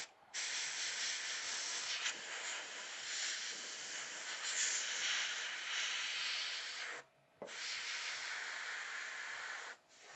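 An airbrush mists paint over a Predator Elder Bio helmet mask, giving a steady broad hiss in two long bursts with a brief pause between them and a short break near the end, close and with no voices.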